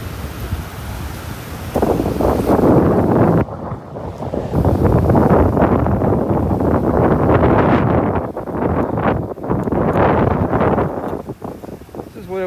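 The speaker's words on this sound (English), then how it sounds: "Man, listen to that wind." Strong wind on Delnor-Wiggins beach buffets the microphone in a continuous, loud low roar that swells and eases in gusts, close and unbroken, with faint surf beneath.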